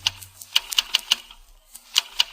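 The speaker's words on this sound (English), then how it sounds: "is in his private office typing a report" A typewriter in a private insurance office in 1938, sharp close keystrokes in irregular bursts with brief pauses between clusters.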